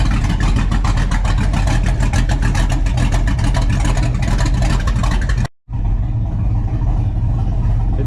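A 6.0 LQ4 V8 with a Texas Speed cam and heads idles with its exhaust cutouts open. It gives a loud, close, steady rumble with a choppy, lopey pulse and a brief dropout near the end.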